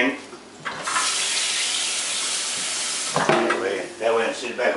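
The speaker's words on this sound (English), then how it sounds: "always put a little water in this pan." Tap water running into a cooking pan in a kitchen, a steady close hiss that briefly stops and then starts again with splashing toward the end.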